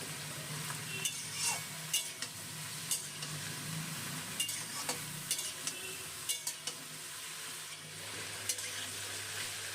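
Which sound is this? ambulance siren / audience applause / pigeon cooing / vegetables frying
vegetables frying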